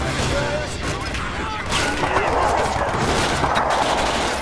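Continuous rifle and machine-gun fire in a Stalingrad battle in Call to Arms, a dense crackle of shots near and far over loud battlefield noise, with voices talking underneath.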